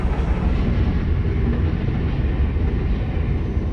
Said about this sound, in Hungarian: Épp, hogy elment a vonat, már nyílik is a sorompó.